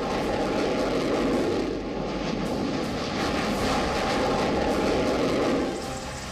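A Rafale fighter jet roars loudly and continuously, a broad steady jet-engine rush holding strong the whole time with slight swells in intensity.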